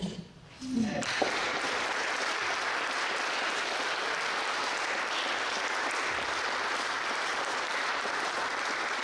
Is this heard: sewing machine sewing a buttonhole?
no